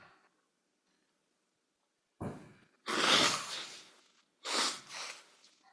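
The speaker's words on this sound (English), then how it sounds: "Excuse me for blowing my nose." A person blowing their nose in a quiet courtroom, a pause and then two or three loud, breathy blasts of air.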